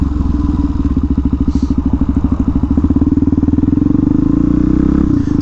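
A Yamaha FZ-09 motorcycle engine pulses in a fast, even throb, loud and close, holding steady before briefly fading near the end.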